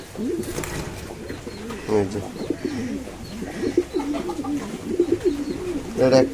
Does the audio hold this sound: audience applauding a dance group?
no